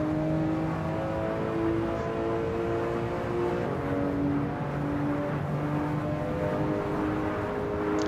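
Porsche 911 Turbo S in Assetto Corsa, held in third gear through the Lesmo corners on a hot lap, giving a constant loud whirring engine tone with gently shifting pitch and no talk.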